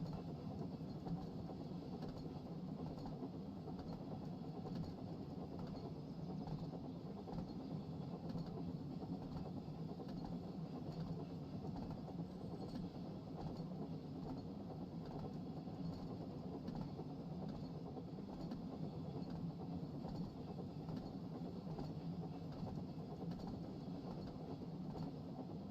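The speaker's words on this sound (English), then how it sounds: "Now we just drive down the branch line with no train, just the engine." A locomotive engine with no train attached drives down a branch line in a Thomas the Tank Engine video game, a continuous faint low rumble and rolling rail noise lasting throughout without variation.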